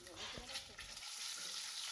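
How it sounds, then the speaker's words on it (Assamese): Eggs frying in refined oil with chili powder, stirred in a pan for an egg curry; a steady close sizzle runs throughout, with scraping stir sounds in the first second. "অকণমান সময় লৰাই পেলাই ডিমকেইটা ভাজি ল'ম।"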